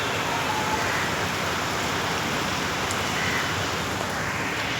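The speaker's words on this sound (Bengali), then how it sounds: "বাইরে প্রচুর বৃষ্টি হচ্ছে।" Heavy rain falls steadily outside a window, a dense continuous wash of noise that stays even and loud throughout without pause.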